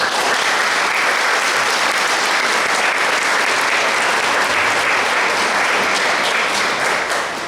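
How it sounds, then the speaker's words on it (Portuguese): A congregation at a Palm Sunday mass in a community church claps in sustained, dense applause, many hands together at an even loudness throughout, close and continuous without a break. "Uma salva de palmas para vocês."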